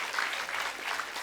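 Studio audience on an Indonesian variety show clapping, a brief, steady wash of applause at moderate level with no one talking.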